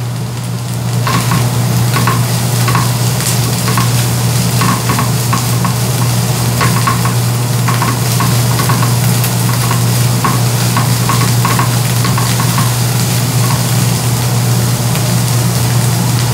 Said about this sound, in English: I'm gonna go ahead and start in with the onions first, y'all.